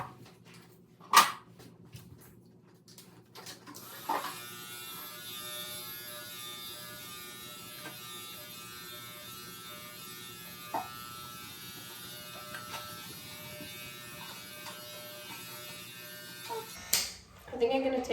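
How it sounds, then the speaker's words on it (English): Electric clippers grooming a small doodle dog, a steady faint buzz running through most of the clip with occasional clicks and thumps, while a person talks at times. "And then we're gonna get going on the clipper work."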